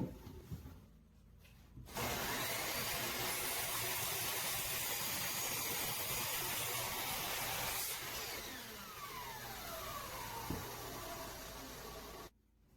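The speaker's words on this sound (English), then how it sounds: "Next, I cut another 30-inch section from the 2x6." A power saw cuts through a 2x6 wooden board with a loud, steady whining hiss, starting abruptly after a quiet moment, shifting pitch midway as the blade works through, then stopping.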